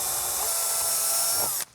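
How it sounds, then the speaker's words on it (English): A power drill bores out pre-made holes in a Spirit Halloween ghost trap prop, a steady high whine for about a second and a half before cutting off abruptly. "I'm gonna drill those holes that we made earlier out a little bit so that I can fit a screw through there"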